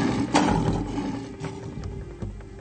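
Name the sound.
lioness roaring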